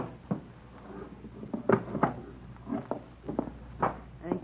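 Wooden dresser drawer handled as a radio drama sound effect: a series of soft knocks, slides and thuds in an irregular rhythm, close and moderately loud, with no talk.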